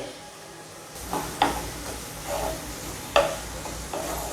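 Spring onion greens fry uncovered in a pan with a soft, continuous sizzle, close by, as a utensil stirs and scrapes twice with sharper clinks, and no one speaks.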